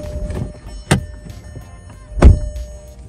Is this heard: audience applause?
no